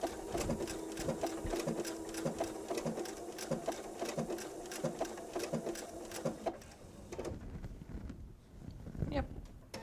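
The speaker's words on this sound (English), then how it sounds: "No, we're sewing." Sewing machine stitching in a steady rapid mechanical rhythm, close and fairly loud, slowing and stopping near the end.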